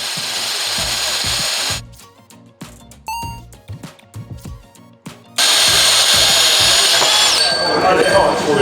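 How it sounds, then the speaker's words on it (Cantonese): A band saw cuts through a round metal pipe, a loud steady grinding whine that breaks off into scattered clanks and quieter knocks before the harsh cutting roar returns at full strength. "你見到用帶鋸啦，cut呢個圓通啦。"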